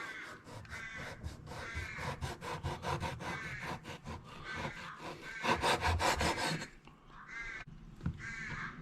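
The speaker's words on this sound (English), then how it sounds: "with this piece of Giancale, we want to cut it into about 1/2 centimetre slices" Knife slicing guanciale into half-centimetre slices on a board, a series of rhythmic close sawing strokes, each a short rasping cut, ending in a few separate cuts.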